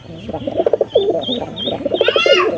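Pigeons in a village coop coo nearby in soft, repeated warbling phrases, rising briefly into a brighter call toward the end.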